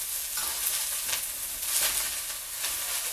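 Vegetables fry in a hot pan on high heat, giving a steady close sizzle with occasional louder hissing swells as they are stirred, and no voices.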